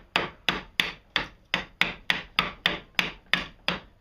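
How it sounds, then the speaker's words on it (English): A chisel is tapped across a marked line to clear wood waste from a dado while building a paint shelf. About eleven sharp, evenly spaced knocks ring out close and loud, with no voices. "I'll just take a chisel and I actually just go ahead and chisel out the waist"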